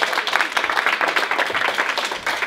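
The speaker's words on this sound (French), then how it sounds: "On peut l'applaudir quand même." Dense applause from a small group at a capoeira singing workshop, a steady wash of hand claps lasting throughout at a fairly even, moderate level.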